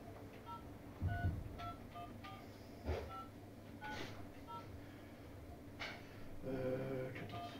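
Series of short electronic keypad tones as a phone number is dialed, beeps spaced unevenly, with a few background clunks.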